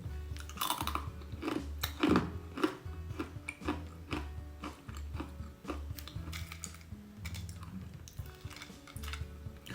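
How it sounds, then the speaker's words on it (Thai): Crispy dried baked vegetables and fruit chewed close up, with dense, continuous crunching and crackling that lasts for several seconds and has no speech over it. "ก็คือเคี้ยวเคี้ยวก็จะอร่อย"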